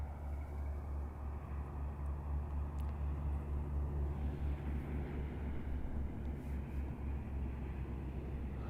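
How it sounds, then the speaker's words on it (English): A truck approaching on a desert road near Tombstone, Arizona at sunset, heard as a steady low engine rumble with broad road noise that holds fairly even throughout, distant rather than close, with no talk over it. "That's that truck I heard coming now."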